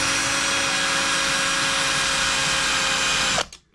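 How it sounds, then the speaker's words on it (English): A power drill boring a hole through a copper penny coin for a homemade fishing lure, a loud steady whine with a constant hum that runs unbroken, then cuts off abruptly near the end. "and drill it through"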